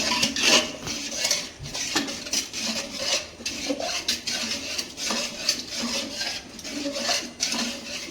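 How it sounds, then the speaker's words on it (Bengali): Khichdi being stirred in a pot after ghee and sugar go in, a spoon scraping and clinking against the pot in a steady, close rhythm with no talk. "নাড়িয়ে নেব।"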